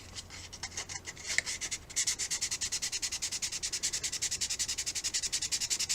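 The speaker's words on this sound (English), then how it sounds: "Now we need to sand that hole off lightly." Light hand sanding around a freshly drilled hole in a model rocket part, a quiet, rapid back-and-forth scratching that settles into an even rhythm of about twenty close strokes after a few irregular ones.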